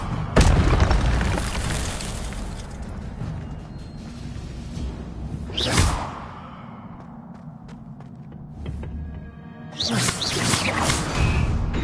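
A fire spell cast in Hogwarts Legacy lands as loud booming bursts with whooshing flares, one near the start, another around six seconds and a third near ten, over a steady game soundscape.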